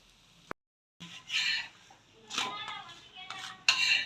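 A radish chapati cooks on a pan and is flipped, heard as a sharp click, a short silence, then several scraping, clattering bursts of a spatula against the metal.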